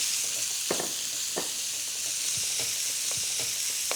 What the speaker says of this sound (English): what you want is just to flash fry the lamb